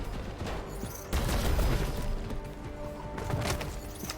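Gunfire in the game Deus Ex: Mankind Divided during a firefight, with a loud burst of impacts and shots after the first second, continuing as rough clattering bangs and ending in a final flurry.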